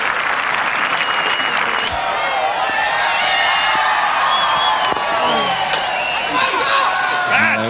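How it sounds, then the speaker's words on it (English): Spectators at a 2003 Cricket World Cup match between South Africa and Kenya applaud steadily, a broad wash of clapping and crowd noise with a few shouts, under a commentator's voice throughout. "Ravinder Shah getting some well-deserved applause here."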